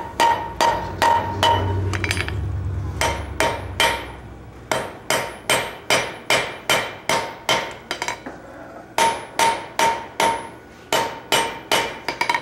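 Farrier's rounding hammer shaping the ear of a forged axe over an anvil horn, loud ringing metallic blows in a steady rhythm of around thirty strikes with short pauses, close and clear with no talk.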